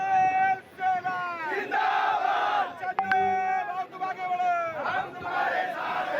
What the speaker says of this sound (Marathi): मुक्ताई नगर मध्ये जल्लोष केला जातोय